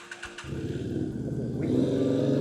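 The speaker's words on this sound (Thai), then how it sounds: "เสียงสตาร์ทแบบเสียงลั่นๆเลยนะครับ" A 2016 Stallion Buccaneer 250 motorcycle engine cranks and catches after a few clicks, then settles into a loud, throbbing idle that rises slightly toward the end.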